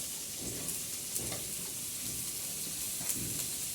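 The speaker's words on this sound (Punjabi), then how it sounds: "ਆਪਾਂ ਸਭ ਤੋਂ ਪਹਿਲਾਂ ਆਪਣੇ ਪਿਆਜ਼ਾਂ ਨੂੰ ਚੰਗੀ ਤਰ੍ਹਾਂ ਫਰਾਈ ਕਰਾਂਗੇ" Onions fry in oil in a pan for a bitter gourd and potato curry, a soft continuous sizzle with occasional faint stirring scrapes, fairly quiet and close.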